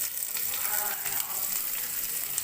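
Onion and green chilies, added after curry leaves, frying in a pan for pepper chicken, giving a steady, close hiss of sizzling oil throughout with no talking.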